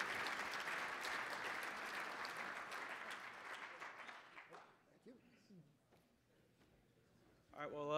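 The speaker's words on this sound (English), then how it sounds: "Please join me in a big round of applause for our two speakers." Applause from a dinner audience at a CFA Colorado Society forecast dinner for two speakers, sustained clapping that tapers off, followed by voices talking.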